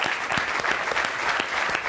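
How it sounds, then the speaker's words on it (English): An audience at a session Q&A bursts into a steady round of applause, many hands clapping densely and evenly for two seconds without a break. "I think big round of applause for those two."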